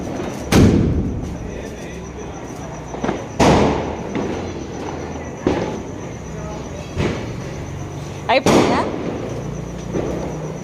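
Diwali firecrackers going off at a home celebration: several sharp, loud bangs spaced a few seconds apart, each with a short rumbling tail, while people talk nearby.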